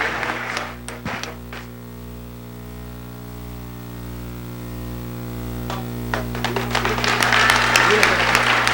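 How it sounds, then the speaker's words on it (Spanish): An audience applauds a Catholic priest after a debate with a Bible student. The clapping swells loudly near the end over a steady electrical hum, with some talk earlier. "Un fuerte aplauso para el Padre."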